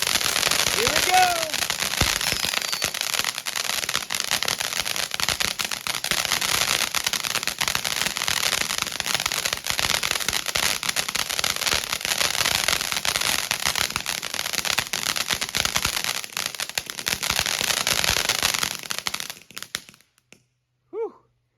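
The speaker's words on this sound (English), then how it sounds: "They're all using that super snappy crackle." Firework fountains spray a steady, dense snappy crackle for nearly twenty seconds, loud and continuous, with a voice heard faintly at the start and end as it dies away.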